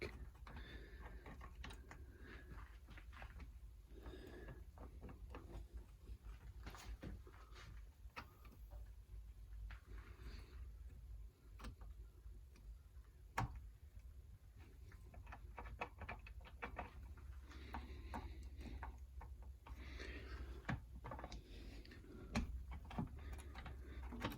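A gearbox shaft on a 1977 Maico MC440AW motorcycle is wriggled into place, giving faint scattered metallic clicks and small knocks over a quiet room hum.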